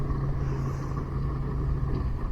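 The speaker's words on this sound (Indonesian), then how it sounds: "banyak sekali kendaraan truk yang sudah beroperasi" Heavy trucks hauling mountain soil for toll road construction rumble steadily in a low, continuous engine drone, moderately close, with no talk over it.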